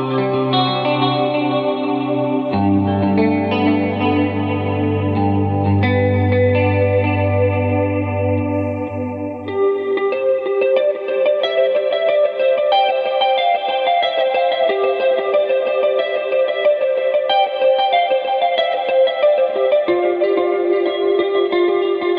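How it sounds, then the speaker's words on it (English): An electric guitar through a Line 6 Helix, with an AC30-style amp and chorus placed ahead of tremolo, delay and reverb, plays shimmering, wavering sustained chords and then a brighter picked passage. It plays alone, loud and continuous. "I'm going to add in the chorus."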